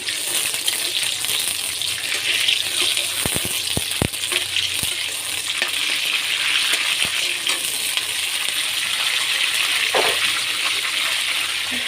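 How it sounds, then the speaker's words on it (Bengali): Onion frying in a hot pan during cooking of chicken curry with garam masala, a steady close sizzle and crackle throughout, with a few sharp clinks of a utensil against the pan. "এই যে পেঁয়াজটা দিয়ে দিচ্ছি"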